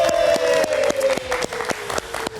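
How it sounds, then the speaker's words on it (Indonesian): A talk show audience gives short applause, with clear individual claps in a loose, uneven rhythm that thins out over a couple of seconds, and a sustained musical tone under the first half. "Kita kasih tepuk tangan untuk Polygon."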